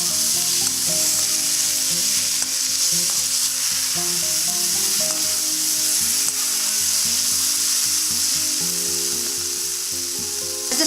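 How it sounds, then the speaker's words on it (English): Chopped tomato frying in a pan for a Nepali gundruk and soybean dish, a loud steady sizzle with scraping stir strokes throughout, no voices. "After a few seconds, we add tomato that we just chopped. Mix it again very well."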